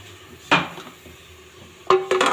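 Pot of vegetable bhaji being heated and stirred in a home kitchen, a few sharp clinks and scrapes of a utensil against the pot over a low background, near and distinct.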